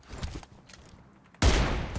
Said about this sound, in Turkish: Kim sıktı lan?